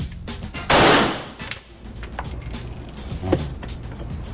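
A single sharp 9mm handgun shot rings out close and loud, a broadband crack followed by a short decaying tail, with quiet background rustle and faint clicks afterward.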